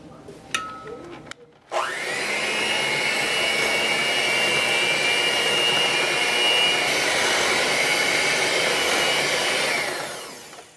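Blender whirring through cheesecake filling, starting abruptly after a brief clatter and running as a steady, loud motor whine for about eight seconds before cutting off.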